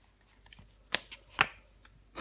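Tarot cards laid down over other cards in a spread, two sharp close slaps about half a second apart followed by a brief sliding brush, with quiet faint rustles before them.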